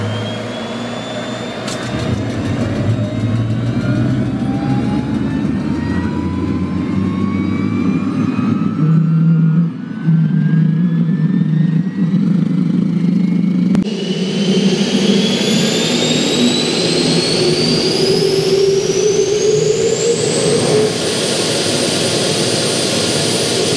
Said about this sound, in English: that's going to start our huge gas turbine engine right there